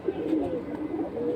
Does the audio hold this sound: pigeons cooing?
yes